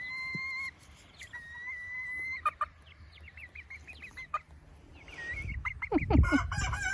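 Chickens cluck and call in harmonic bursts while a rooster crows, with a louder flurry of squawks and rustling near the end.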